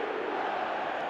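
A stadium crowd in the eFootball video game roars in a dense, steady wash of cheering that holds level for a brief moment without a break.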